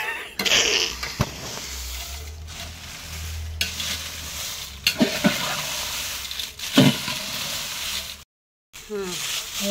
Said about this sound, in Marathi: मिरच्या भाजून तेल टाक.